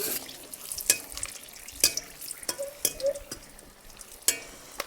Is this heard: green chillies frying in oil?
yes